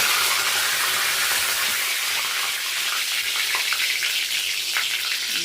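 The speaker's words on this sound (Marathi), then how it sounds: "मोहरी आणि जिऱ्याचा तडका देत आहे. त्यामध्ये जे आपण कढीपत्ता होता तो थोडा टाकला" Mustard seeds, cumin and curry leaves crackle and sizzle in hot oil for a Marathi-style tempering for rava upma, a steady dense frying hiss with faint pops, close and continuous with no voices.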